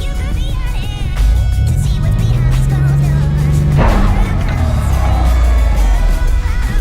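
A new truck's engine labours at low revs in gear, its rumble rising and then faltering as it stalls out, with a sharp clunk as it quits, loud and close inside the cab, no voices.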